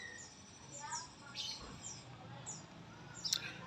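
A murai songbird sings outdoors in short, bright chirps and whistled phrases, fairly faint against a low background rumble of passing traffic.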